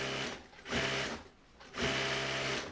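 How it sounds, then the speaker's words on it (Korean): About ten sewing machines in a cooperative workshop making cloth sanitary pads whir in two bursts of rapid stitching, pausing briefly in between, close and mechanical with a steady rattling hum. "10여 명의 주부들의 재봉틀이 쉴 새 없이 돌아간다."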